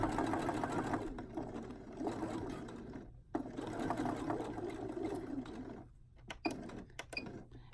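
A sewing machine stitches a pocket down on a pinafore in steady, rapid runs, the needle's close mechanical chatter pausing briefly twice before starting again, with small clicks near the end.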